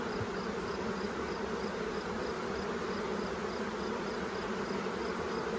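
Honey bees at a troubled hive after a failed swarm or supersedure hum in a steady, dense buzz that fills the air, close and continuous with no talking.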